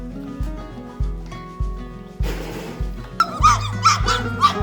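An Anatolian Shepherd puppy gives short yips and whimpers in a quick series, close and fairly loud, with a burst of broadband noise between the cries.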